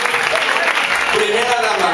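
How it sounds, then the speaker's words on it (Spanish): Dense, even applause from a crowd of listeners on a walking tour through Madrid's old town, steady and fairly loud throughout with voices mixed in. "Un aplauso para el de Alcalá."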